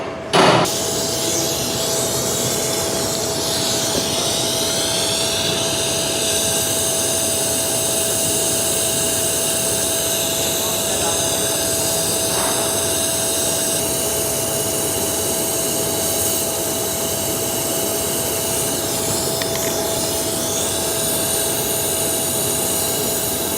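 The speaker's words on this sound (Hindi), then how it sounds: "इस तरीके से आप जो है ना वेल्डिंग कर देनी है" Welding on the connection of a 12-volt air conditioner compressor produces a loud, steady roaring hiss that runs unbroken for over twenty seconds, close by and with no talk.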